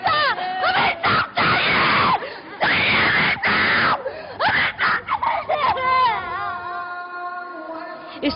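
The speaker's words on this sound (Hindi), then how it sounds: "इस चीख से धरती दहल सकती है" Grieving family members mourning a brother's killing in Karachi scream and wail: loud, anguished cries come in long bursts with brief gasping pauses, then fade into lower, trembling moans.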